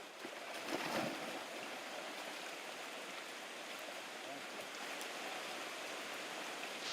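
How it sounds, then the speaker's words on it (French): Torrential rain pours down in a jungle, a dense, steady broadband hiss of water on foliage and ground, loud and continuous throughout. "Une pluie torrentielle commence à tomber."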